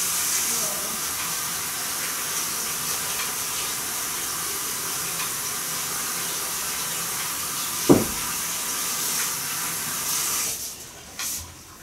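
A tap runs steadily while hands are washed at a sink, a continuous broad hiss of flowing water lasting most of the clip with a brief knock midway, before the flow cuts off near the end.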